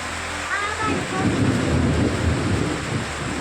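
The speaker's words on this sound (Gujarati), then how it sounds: "બહુ વરસાદ છે" Heavy rain pours down steadily during a storm on an outing to a Mahadev temple, a loud continuous broadband wash with a brief low rumble and a faint voice near the start.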